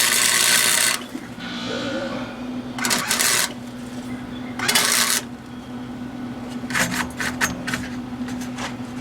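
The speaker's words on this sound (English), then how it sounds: "I'll finish welding them up in a minute. Yeah, tacked in right well." Tack welds join a fabricated trunk floor frame on a 1948 Ford body swapped onto a Ford Ranger, heard as several short, loud crackling bursts separated by quieter gaps over a low shop hum.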